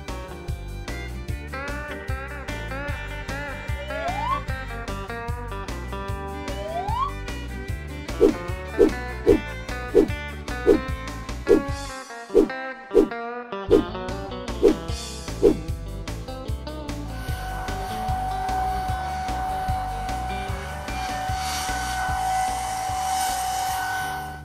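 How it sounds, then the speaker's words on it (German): A hair dryer drying a doll's hair starts up toward the end as a steady, loud blowing whoosh with a constant whine, following a stretch of bright plucked music and rhythmic tones. "Jetzt trocknen sie noch ein bisschen."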